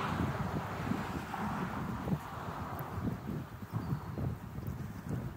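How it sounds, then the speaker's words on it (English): Wind buffets an outdoor phone microphone mounted on a stick, producing a continuous low rumbling roar with uneven gusty swells throughout, and no clear talking. "It's a little windy today."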